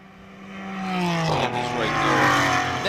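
Ford Mustang GT4 race car at Virginia International Raceway, engine note rising and swelling loud as it approaches, then a sharp gear change and a harsher, higher roar as it accelerates close by.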